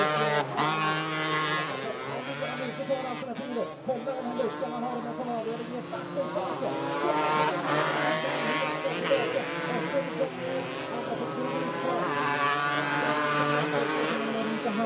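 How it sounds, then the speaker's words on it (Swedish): Crosskart race cars competing in a championship final in Karlstad, Sweden, their engines whining and rising in pitch continuously, with a commentator's voice heard alongside. "ju längre finalen går, desto längre blir också avståndet mellan ledaren Oliver Solberg och de övriga kartorna."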